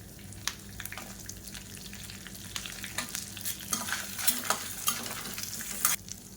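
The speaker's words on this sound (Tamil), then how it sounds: "இப்போ எல்லாமே லேசாக வதங்க ஆரம்பிச்சிருச்சு" Red chillies, curry leaves, ginger pieces and broken green chillies frying in a pan, a steady low sizzle with scattered crackles and occasional stirring scrapes throughout, no voices.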